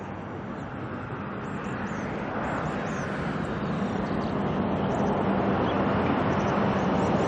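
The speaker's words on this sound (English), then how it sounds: "Looks like a 320 there with the all black ATR taxiing out in front of it." Airbus A320 and an all-black ATR turboprop taxiing at Auckland Airport, heard as a steady, fairly distant engine roar and whine that builds slightly over time with no talk.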